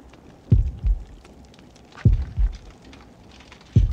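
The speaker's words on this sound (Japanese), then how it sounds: "未だ心音鳴ってるのがね" Heartbeat warning cue from the horror game Horrorfield: three double-thump beats, low and booming, about every one and a half seconds, alone without talk.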